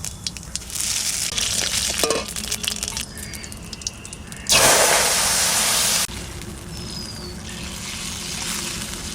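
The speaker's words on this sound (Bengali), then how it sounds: "সর্ষের তেল দিয়ে দিচ্ছি জিরে আর দেবো কটা রান্ধনি" Cumin and radhuni seeds crackle in hot mustard oil with a steady, close sizzle that flares into a louder burst midway and then settles back to a continuous hiss.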